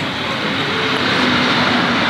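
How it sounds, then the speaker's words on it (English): Steady, loud rumbling roar of a train passing near an outdoor mini golf course, filling the whole stretch with a constant broadband wash and no talk over it. "With the train noise."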